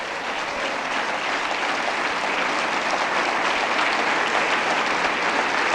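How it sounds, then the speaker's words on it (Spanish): A church congregation applauds together during a sermon, steady sustained clapping from many hands at moderate loudness, with no speech over it. "Denle un aplauso al Señor"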